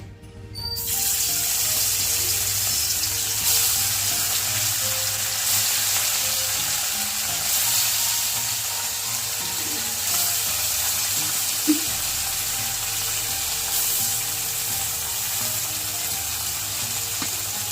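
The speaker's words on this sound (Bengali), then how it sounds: "তেল গরম হয়ে গেল তো এখানে এক এক করে মাছগুলো দিয়ে দেবে" Pieces of bata fish fry in hot oil, giving a loud, continuous sizzle that holds steady for the whole stretch, with a faint clink partway through.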